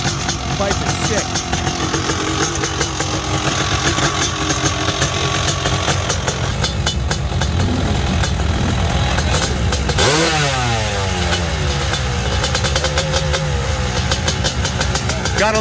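A 40-year-old Honda CR500R big-bore two-stroke motorcycle with a tuned aftermarket pipe at a hillclimb event runs loud and close, idling with a raspy burble and blipping the throttle into brief revs midway.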